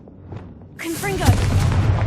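A Confringo fire spell in Hogwarts Legacy bursts in after a quiet stretch, a loud broadband blast with a sharp peak, then a rumbling roar that sustains to the end while a voice speaks over it.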